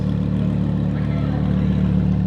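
A straight-piped, supercharged Audi R8 engine runs with a steady, loud, low rumble and a constant drone, holding an even pitch throughout with no talk.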